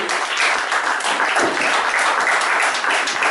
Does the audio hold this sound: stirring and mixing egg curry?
no